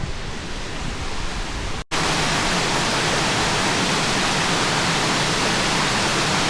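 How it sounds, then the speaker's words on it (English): A waterfall pours through a rock cave into a deep pool on a desert canyon trail, a loud, steady broadband roar that drops out for an instant before resuming at full strength. "you can see the waterfall coming down through the cave"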